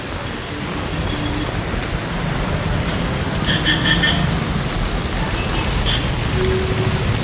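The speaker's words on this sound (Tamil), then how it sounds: "பெய்கிற மழை வெள்ளம்" Heavy rain pours steadily over a flooded Kerala village during a storm, a dense, even hiss close by with faint scattered tones and no clear speech.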